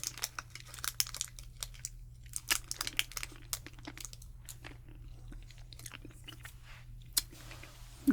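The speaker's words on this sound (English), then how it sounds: "I'm sucking on it more than chewing it," Close, quiet chewing and sucking on sticky whipped taffy candy, with irregular wet mouth clicks and smacks, occasional soft crinkling, and no talking.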